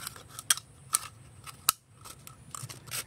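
Scissors snip through a plastic Yakult bottle in several sharp, quiet cuts, spaced irregularly at first and then clustered, with soft handling noise between them.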